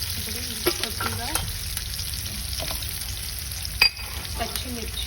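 Lentils frying in a pan over a low flame for tomato pachadi give off a steady close sizzle, broken by a few sharp stirring clicks and a louder scrape near the end.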